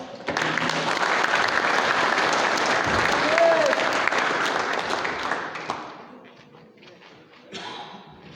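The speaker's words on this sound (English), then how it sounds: "Give a round of applause to Cam Bales." Audience applause for a demolition derby driver at an awards gathering, a loud, dense wash of clapping that holds steady for several seconds, then thins out and fades, with a few scattered claps and some talk near the end.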